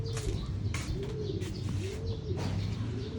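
Pigeons brought from Japan coo softly and repeatedly in a small home loft, with occasional faint chirps and light rustling in the background.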